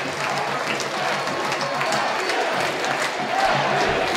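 A football stadium crowd at a Ponte Preta versus Novorizontino Campeonato Paulista match applauds a substituted player, steady distant clapping and crowd roar filling the whole stretch.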